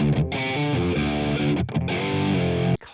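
A heavily distorted electric guitar plays thick sustained chords with a brief gap, ending abruptly, loud and alone.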